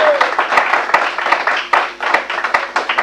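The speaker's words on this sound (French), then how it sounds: "Il peut s'applaudir lui-même" Studio audience at a recorded broadcast applauding, dense clapping throughout with a few sharper individual claps standing out, close and fairly loud.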